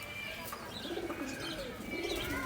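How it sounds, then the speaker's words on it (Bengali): A pair of Fulshira pigeon chicks cooing softly with repeated low murmuring calls, alongside faint chirps and a steady background hum. "এক জোড়া ফুলশিরা কবুতরের বাচ্চা"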